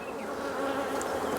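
Honey bees buzzing around an opened hive during an inspection, a dense, steady drone of many insects close by with individual bees flitting past, no voices.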